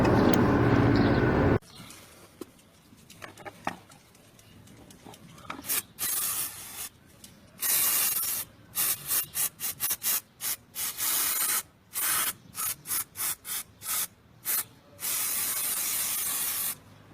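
Brake cleaner is sprayed while cleaning a car heater fan motor, starting with a long loud hiss, then many short sharp bursts and a final sustained spray, close and alone.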